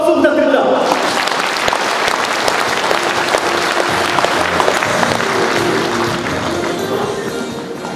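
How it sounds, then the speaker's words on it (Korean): Sustained, loud applause from a large crowd at a political party's founding convention, dense clapping filling the hall for the whole stretch with some voices mixed in. "여러분, 큰 박수 부탁드립니다."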